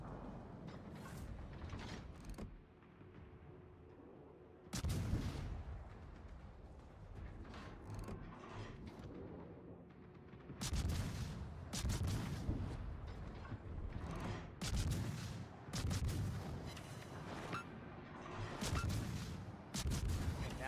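Naval guns booming in the video game World of Warships, several loud heavy salvos spaced irregularly across the stretch with rumbling tails and quieter mechanical ambience between them.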